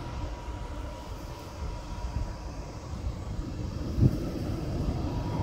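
A low, steady rumble of the Ankara–Konya high-speed train fills a large, echoing station, with a brief clank partway through and no talking.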